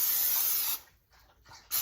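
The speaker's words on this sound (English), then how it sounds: "I'm gonna spray a baking sheet with some non-stick cooking spray." Non-stick cooking spray hisses out of a can onto a baking dish in one close, steady burst of under a second, then a few short, faint puffs.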